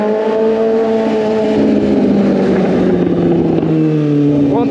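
Suzuki GSX 750 motorcycle with a straight-through exhaust pipe revving loudly on a cold day, a close, continuous engine roar with shifting pitch and no voices.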